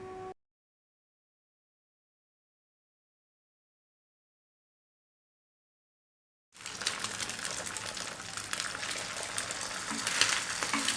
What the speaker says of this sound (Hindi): और अंडे फ्राई कर लेंगे।